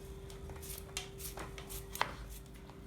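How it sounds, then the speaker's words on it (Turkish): A knife chops tomatoes into small pieces on a cutting board in quick, light, irregular taps, close by, over a steady low hum. "Şimdi domateslerimizi minik minik doğruyoruz."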